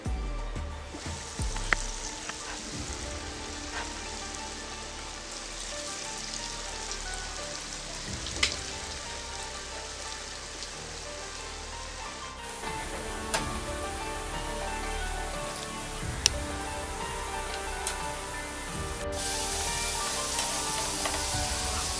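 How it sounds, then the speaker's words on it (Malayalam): Steady sizzling of potatoes frying in hot oil, a dense crackling hiss with occasional sharper pops, continuous throughout with no talking. "അപ്പോൾ നമ്മുടെ പൊട്ടറ്റോ ഇനി നമ്മൾ പൊരിക്കാൻ പോവാണ്"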